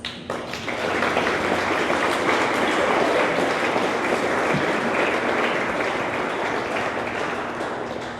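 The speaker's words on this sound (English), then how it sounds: "you deserve a large, large round of applause" Banquet guests at a tennis academy event give parents a big round of applause, a loud, dense crowd clapping that swells within the first second and then holds steady, tapering slightly toward the end.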